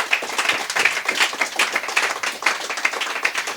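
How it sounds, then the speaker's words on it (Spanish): A church congregation claps together during a sermon, a dense, steady patter of many hands lasting throughout at moderate level, with no clear voice over it. "Si va a aplaudir, tiene que aplaudir fuerte."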